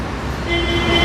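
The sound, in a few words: car horn honking outside a thrift store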